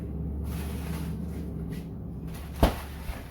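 A kitchen freezer door produces a single soft, muffled thud near the end against a low background hum.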